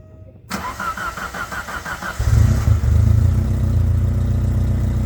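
A cold 1987 Alfa Romeo Spider engine cranks for a couple of seconds with a whirring starter, catches, then settles into a loud, steady, slightly rough idle.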